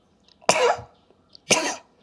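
Two short, explosive sneeze-like bursts about a second apart, close and fairly loud, with quiet between them.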